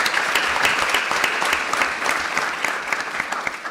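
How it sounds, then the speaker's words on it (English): Audience applause at a panel event during the Hult Prize global finals in the UK, a steady dense wash of clapping from a large crowd that holds even throughout. "Let's give her a round of applause."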